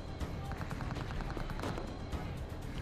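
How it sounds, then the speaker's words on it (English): Machine guns lay down cover fire during a Marine combined arms platoon assault drill, with bursts of rapid, distant gunfire rattling through a continuous, noisy outdoor background. "Machine guns are giving us a lot of cover fire"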